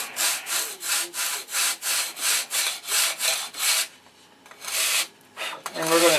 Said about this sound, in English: And we're going to sand to the square.